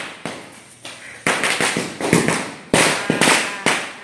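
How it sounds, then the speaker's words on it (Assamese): Firecrackers burst on a road during Diwali: a rapid, loud series of close, sharp bangs, roughly a dozen, arriving in irregular clusters, each cracking hard and trailing off briefly before the next. "ৰাস্তাত এনেকুৱা ফুটাইছে ফটকা"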